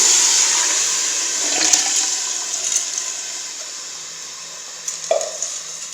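Water pours steadily into a cooking pot of masoor lentils, a continuous splashing gush up close with a few clinks and a brief stir near the end, no voices.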